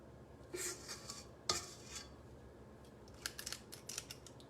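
A metal scoop scrapes and clicks through cookie dough in a bowl, giving a few soft bursts of scraping followed by a rapid run of light metallic clicks.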